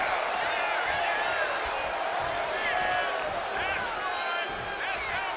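A wrestling arena crowd roars steadily during a women's match, a dense continuous wash of cheering and whoops at high level, with a commentator talking over it.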